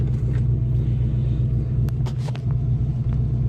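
Low, steady engine rumble of a 1984 GMC Sierra Classic manual pickup truck creeping slowly in gear as the clutch is released, with faint clicks and rustles on top, no talking.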